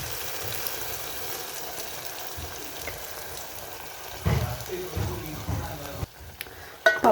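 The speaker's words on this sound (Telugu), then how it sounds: "బ్రౌన్ కలర్ వచ్చాక ఇందులో ఇప్పుడు పప్పు వేసుకోవాలి" Lentils go into a pan after frying to brown in a village-style kitchen, with a soft continuous sizzle that gives way to louder bursts of stirring and scraping in the second half.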